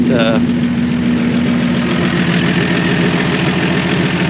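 A 1965 Dodge Dart's 225 cubic inch slant six engine idles loud and close, a steady low mechanical hum and throb, with a brief rising whine at the very start.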